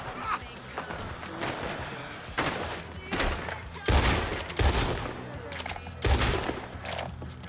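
Bursts of video game gunfire crackle in an online shooter match, with loud repeated volleys and thumps over a constant noisy background of battle sound.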